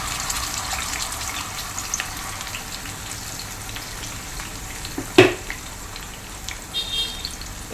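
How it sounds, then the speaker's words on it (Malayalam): Pearl spot fish (karimeen) frying in a pan over a low flame gives a steady, soft crackling sizzle throughout, with one brief louder clatter near the end and no talking. "ഒരു ലോ ഫ്ലെയിമിൽ കിടന്ന് നല്ലപോലെ ഒന്നൊരു സൈഡ് വെന്ത് പൊരിഞ്ഞ് വരട്ടെ"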